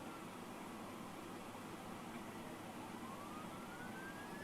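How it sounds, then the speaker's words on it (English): Emergency sirens from an ambulance and a fire truck on a backed-up highway, a faint rising wail drifting through steady, heavy traffic rumble from a distance. "There goes a fire truck right there."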